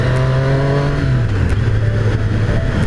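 A 2018 Triumph Street Triple RS 765 motorcycle engine pulls hard under acceleration, a loud, close, steady drone whose pitch holds and then dips briefly before climbing again over about three seconds, with no talking.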